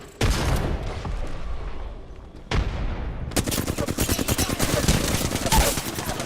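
Gunfire in the video game Apex Legends: a couple of single heavy shots, then a long rapid automatic burst, loud and close.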